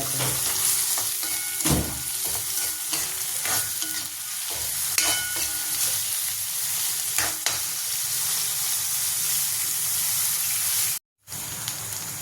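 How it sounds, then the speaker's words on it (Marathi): Chopped onion frying in hot oil in a pan, a steady close sizzle broken by frequent scraping stirs, with a brief dropout near the end. "तेल टाकलं ते कांदा टाकायचा बघा कांदा मग कांदा चांगला लाल होतो"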